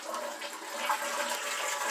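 Indoor toilet flushing, a steady rushing wash of water that holds at moderate level for about two seconds with no voices over it.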